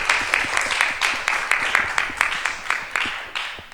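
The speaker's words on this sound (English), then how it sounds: "So let's big round of applause for our Prasadam team." A small gathering claps for the prasadam kitchen team, with steady, dense clapping close by that stays even across the short stretch and carries a few louder individual claps.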